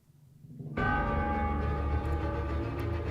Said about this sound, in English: There's the bell of the clock tower, I'm guessing, right?